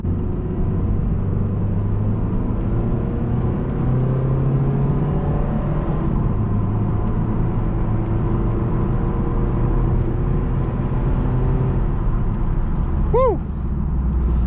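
A 2012 Mitsubishi Eclipse Spider GS convertible engine hums steadily with road rumble and wind noise throughout, the pitch easing up gently as it picks up speed.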